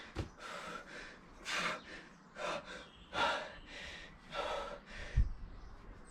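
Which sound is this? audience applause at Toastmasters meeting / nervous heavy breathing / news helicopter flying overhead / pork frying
nervous heavy breathing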